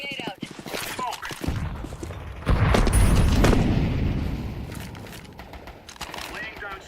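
A grenade goes off in a video game firefight, a loud booming blast around the middle that rumbles and fades, with scattered thuds, clicks and gunfire around it and no talking over it.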